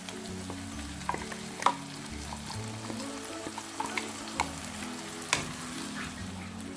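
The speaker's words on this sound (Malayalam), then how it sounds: "ഇനി ഇതിലേക്ക് അരച്ച് വെച്ചിരിക്കുന്ന മസാല ഒഴിച്ചു കൊടുക്കാം." Ground masala paste for an anchovy curry sizzling and frying in a pan, a steady close crackle with occasional sharp pops and clinks from stirring, no voices.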